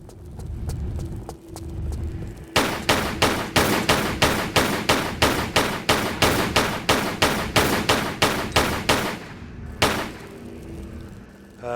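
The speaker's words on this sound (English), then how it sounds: "go over here and shoot some gators have appeared over here" Steady evenly spaced gunshots fired at alligators in a Tomb Raider custom level, roughly twenty sharp loud reports in a regular rhythm with a low game ambience before and after.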